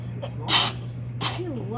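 Two quick, sharp sneezes a moment apart, close by, with a soft voice trailing after.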